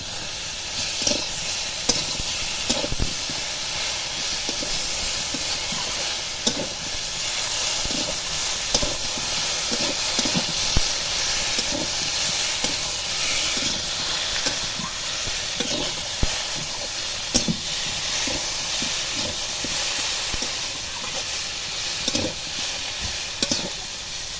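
Chunks of taro sauté with ginger, garlic and cumin paste in a pan, giving a steady hissing sizzle throughout, broken by frequent scraping, tapping stir strokes.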